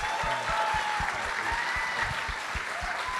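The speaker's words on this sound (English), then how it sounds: "let's give them a round of applause" An audience claps at a film festival Q&A, the sustained applause steady and fairly close with no voices over it.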